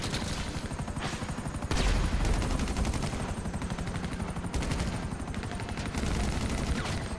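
Rapid automatic gunfire in the video game GTA crackles in dense, continuous bursts with a few heavier booming shots, loud and sustained throughout with no voices.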